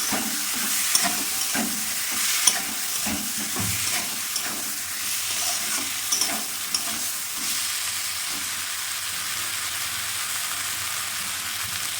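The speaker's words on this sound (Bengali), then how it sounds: "আদা রসুন পেঁয়াজ বাটা দিয়ে দিলাম, দিয়ে নেড়ে চেড়ে দিলাম" Ginger, garlic and onion paste sizzles in a hot pan while a spatula scrapes and stirs it in irregular strokes. It is a Bengali home kitchen cooking new potatoes and peas, with a steady hiss of frying and no talking.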